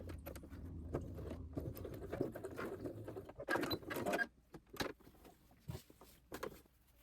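A sewing machine stitching along the marked neckline of a blouse, a close mechanical whirr running steadily then breaking into short bursts with clicks and handling noises, no talking.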